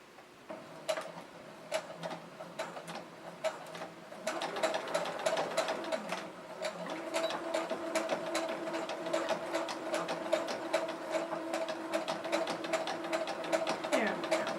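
A sewing machine stitches slowly through many layers of a cross body bag, giving a close, continuous mechanical whir with rapid ticking needle strokes that grows louder partway through, alone without speech.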